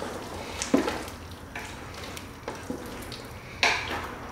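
Spoon stirring cornstarch slurry into a pot of coconut beef stew, faint scraping swirls with a few sharp clinks against the pot, no voices.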